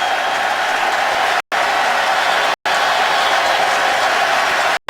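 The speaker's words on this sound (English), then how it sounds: "Crowd noise having an impact." Steady roar of a packed stadium crowd at an NFL game, Chargers at Ravens in 2015, with broad continuous noise filling the clip and broken only by a few brief cuts.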